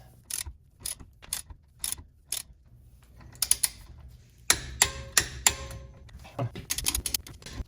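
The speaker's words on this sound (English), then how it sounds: "You want to use a torque wrench with your 5mm and torque them all down to 30 foot-pounds." Torque wrench tightening wheel studs with a 5mm fitting: close, crisp ratcheting clicks in short bursts, followed by a sequence of sharper metallic clicks and clacks, with no voice.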